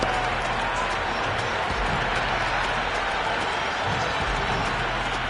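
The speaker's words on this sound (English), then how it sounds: "Will you listen to that crowd?" A dense, steady roar of a large crowd cheering and applauding in a cricket video game on PS5, continuous and loud throughout, with no clear gaps.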